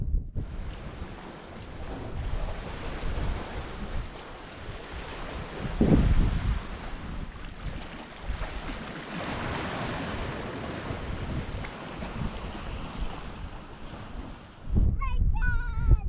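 Surf washing onto Midgie's Beach near Tombstones at Gnaraloo Station, a steady broadband rush with a louder wave burst near the middle and again at the end, mixed with wind buffeting the microphone.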